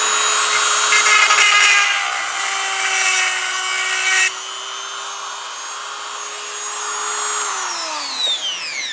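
Vevor electric chain saw sharpener grinding a chainsaw chain: a loud, steady motor whine with harsh grinding for about four seconds, then the motor keeps humming alone and winds down toward the end.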